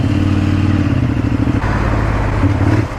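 A motorcycle rides through wet weather, its engine droning steadily with a low, pulsing tone and road and rain noise layered over it, loud and close throughout.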